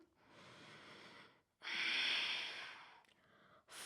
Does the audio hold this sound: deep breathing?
yes